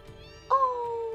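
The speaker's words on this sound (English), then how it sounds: "Oh my god, they're meowing! Yeah, you click on them, they'll do a little meow." A cat in the Final Fantasy VII video game gives one short, clear meow that holds a steady tone before fading, heard over quiet game background sound.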